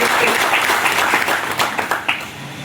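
An audience at a municipal corporation event for a new commissioner breaks into loud, sustained applause, dense clapping that stays strong before gradually thinning toward the end.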